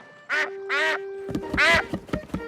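A cartoon duck gives three loud, close, nasal quacks, followed by quick clattering taps and scuffles.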